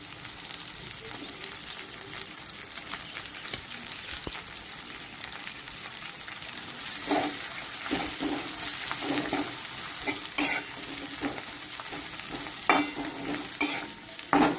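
Fenugreek (methi) leaves fried in oil over a low flame, a constant sizzle with repeated spoon scrapes and stirring clatter that grow busier and louder toward the end, with no voices.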